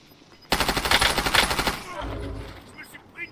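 Rapid automatic gunfire from the video game Call of Duty: a loud, dense burst of shots lasting about a second and a half, then a quieter rumbling tail.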